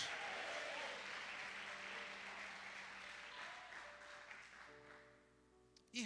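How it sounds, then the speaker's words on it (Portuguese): Sustained applause from a crowd at a religious gathering, steady at first and then gradually thinning out, with some indistinct voices and sounds near the end. "dê um aplauso a Jesus aí"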